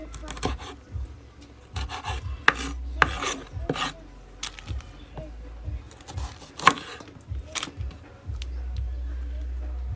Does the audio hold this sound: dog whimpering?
no